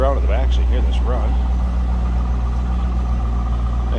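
A 1998 Chevrolet Corvette engine idles from behind the car, a steady low rumble running throughout while someone talks over it for the first part.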